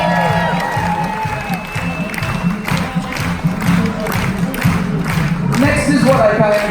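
A party crowd aboard a cruise ship claps and cheers for the Coast Guard, with steady applause, scattered whoops and shouts, and voices mixed throughout the noise.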